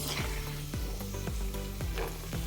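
Dry fruits frying in oil over a low flame, a steady soft sizzle with a regular series of spatula scrapes, close and even.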